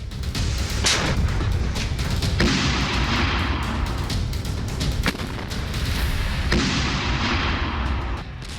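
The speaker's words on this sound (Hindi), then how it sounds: "हमास ने दक्षिणी एशकोल क्षेत्र में ताबड़तोड़ कई रॉकेट दागे।" Hamas rockets fired over the southern Eshkol area of Israel set off a continuous heavy roar of launches and booms, with sharp cracks punctuating a dense, loud rumble that barely lets up.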